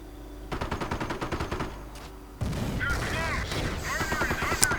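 A .30 caliber machine gun fires in a World War II video game, with rapid rhythmic bursts over battle noise. A second, denser stretch of gunfire and explosions follows and carries on to the end.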